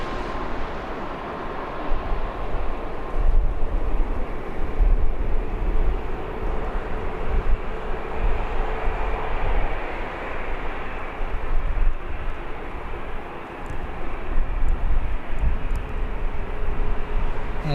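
An airliner lands at Birmingham Airport with reverse thrust engaged, giving a loud, steady jet roar that holds close and continuous for the whole stretch with no talk over it.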